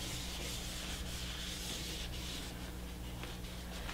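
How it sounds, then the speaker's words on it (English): A palette knife scrapes old paint across a painting palette in a steady, continuous rasping rub, close and fairly quiet, with no talking. "So I'm just going to scrape this over here and put it right here, right there."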